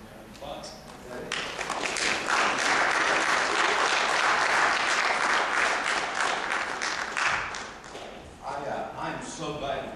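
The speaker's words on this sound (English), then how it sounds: "Applause" Audience applause welcomes a guest speaker at an evening talk in Nebraska, dense clapping that swells in after a brief pause, holds loud and steady for several seconds, then tapers off.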